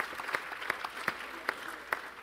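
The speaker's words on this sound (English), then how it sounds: "Round of applause from Ali from DCVC." Sparse, scattered clapping at a modest level, with a few sharper individual claps standing out over a soft background.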